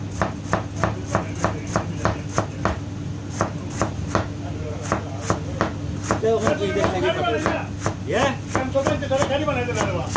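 A chef chopping salad vegetables such as onion with a knife on a board: a steady, rapid series of sharp, evenly spaced knocks, close and loud, with people talking in the background.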